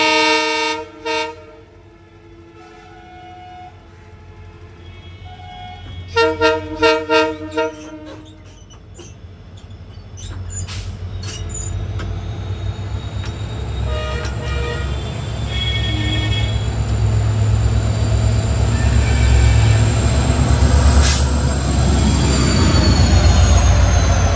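A heavy WDG4 diesel locomotive rumbles closer and passes loudly at an Indian railway station, sounding several horn blasts near the start and middle, with squealing wheels as it goes by.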